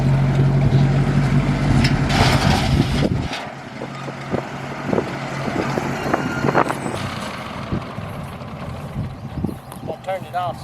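A tractor engine rumbles loudly and steadily while set up for bush hogging, then cuts out after about three seconds, leaving wind noise and people talking.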